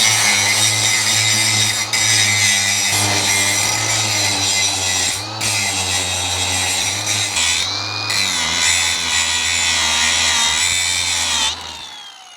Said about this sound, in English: So I got my washers right here. I'm just gonna grind like the top